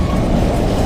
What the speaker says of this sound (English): Oh, it's a Deutsche Bahn engine with some empty.